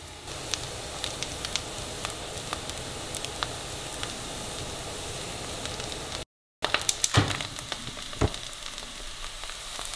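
Chanterelle mushrooms sizzle and crackle steadily as they fry crisp in a pan, a dense close hiss with scattered sharp pops, briefly cut out then resuming with a few louder spits.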